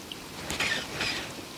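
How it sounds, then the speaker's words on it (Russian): Steady rain falls during a fishing outing, a soft, even hiss of drops with faint scattered patter, alone and fairly quiet throughout. "дождь что-то зарядил опять и как-то... Особо не хочет прекращаться"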